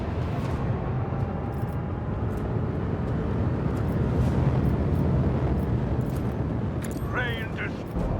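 Macro cannons firing in the Warhammer 40k Rogue Trader video game, a dense, steady roar of heavy booming and rumbling across the whole stretch, with a brief whooshing sweep near the end.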